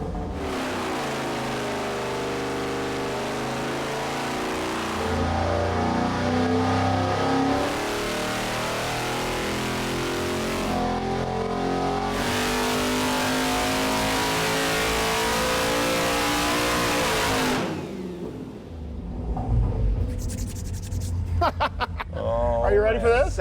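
A powerful 785-horsepower engine revs up on a dyno and holds at high RPM for a long stretch, a loud sustained roar with climbing harmonics before cutting off, then voices.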